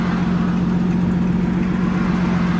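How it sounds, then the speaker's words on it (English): A car with a loud modified catback exhaust idles close by during a traffic stop, giving a continuous deep rumbling drone that stays steady and loud throughout, with no talk. "David, the reason why I pulled you over is for your loud exhaust."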